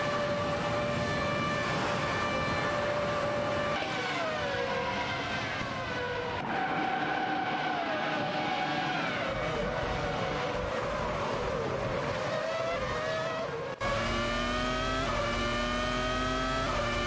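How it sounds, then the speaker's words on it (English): Race car engines in a racing video game rev and accelerate with rising and falling pitch, several cars overlapping in continuous loud whine with shifting tones. "Racing car, dashing away."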